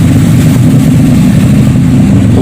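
A motorcycle engine runs loud and close throughout, a steady low rumble with no break and no talk.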